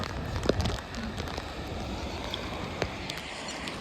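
Steady rain pattering on surfaces outdoors, a constant wash of drops with a few sharper taps, no voices.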